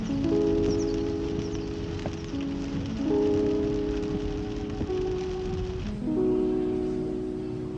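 Steady rain patters on surfaces in a heavy January downpour, with a sustained layered hum running underneath and shifting in pitch a few times. No one speaks.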